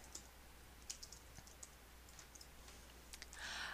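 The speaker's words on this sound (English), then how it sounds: "Click and let's just type your name for this time." Faint, sparse computer keyboard clicks of someone typing a name in a design program, heard over steady low background hum.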